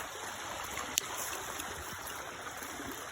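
A stream in Wells Hills Park, a wooded park in Fayetteville, Tennessee, flows in a steady close rush of water with a faint trickling texture and one brief click.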